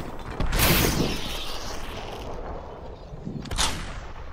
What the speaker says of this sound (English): There's a lot of shotguns here.